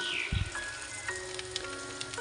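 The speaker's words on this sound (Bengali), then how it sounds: "এখন জলপাই দিয়ে দিচ্ছি। জলপাই দিয়ে একটু নেড়ে চেড়ে নিব।" Olives frying in a pan for pickle, giving a gentle crackling sizzle with soft scattered pops as they are turned, and a dull knock of the spoon at the start.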